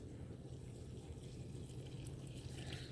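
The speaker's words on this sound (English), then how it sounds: "we're going to add a cup and a third of warm water" Warm water poured from a cup into a bowl of boxed pizza dough mix, a soft continuous trickling and splashing that stays low and steady throughout.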